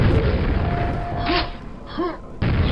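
Rocket launcher explosions in the video game Quake come as loud, deep booms and rumbling blasts, dropping away and hitting again sharply near the end, with a few brief vocal sounds between them.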